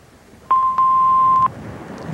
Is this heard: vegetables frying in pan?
no